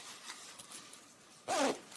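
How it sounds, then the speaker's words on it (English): A zipper closes the pocket of a Venustas bubble-style heated jacket in one quick, close pull near the end, after a stretch of faint rustling. "and then zip it up."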